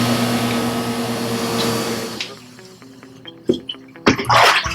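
Water sprays against a screen-printing screen, a loud steady hiss that stops about halfway, leaving faint drips and a few sharp bursts of spray near the end.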